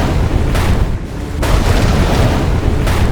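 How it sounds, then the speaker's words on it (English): A nuclear plant exploding, heard as a sustained, loud, dense roar of blast and rumbling debris with brief dips, filling the whole stretch without speech. "a massive explosion hurls debris into the air"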